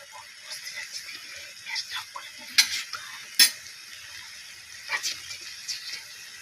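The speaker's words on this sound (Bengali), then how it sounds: "ভালো করে নাড়াচাড়া করে নিই। নাড়াচাড়া করে নিয়ে চিনি দেবো।" Spinach being stirred in a pan while cooking palak paneer makes soft scraping and shuffling stirs, with a couple of sharper utensil knocks against the pan, quiet and close, at an uneven rhythm and with no speech.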